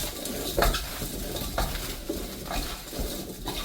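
Radish kakdugi kimchi being tossed with seasoning and sesame oil, giving wet, squelching stirring sounds with light clinks of a utensil against a bowl, in short repeated strokes.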